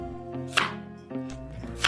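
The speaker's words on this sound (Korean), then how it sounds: "먼저 무 한 개를 큼직큼직하게 썰어주세요." A knife chops a radish into large chunks on a cutting board, three crisp thuds spaced evenly and close by, with no talking.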